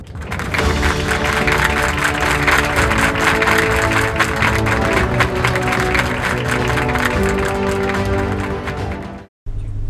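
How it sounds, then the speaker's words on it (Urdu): Audience applause welcoming a speaker at a Sindh declamation contest grand finale, a loud, full hall of clapping with some crowd noise and tonal background sound, ending abruptly with a brief cut. "اپنی بھرپور تالیوں میں استقبال کیجیے خدیجہ رضوان"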